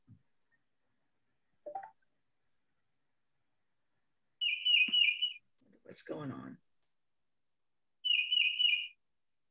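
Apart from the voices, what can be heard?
pet birds chirping in Kentucky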